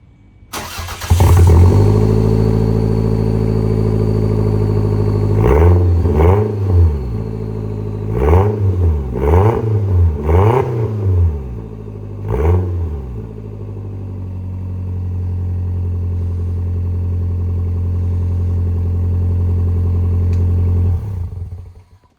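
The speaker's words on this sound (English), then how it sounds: "Now we're gonna do a sound clip with the exhaust on." Toyota MR2 engine fitted with a custom exhaust, starting with a loud burst, then several quick throttle blips in a rhythmic cluster before settling into a steady, deep, close idle.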